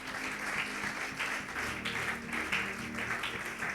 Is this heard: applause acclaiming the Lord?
yes